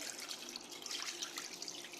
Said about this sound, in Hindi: पानी से इसको हम भर देंगे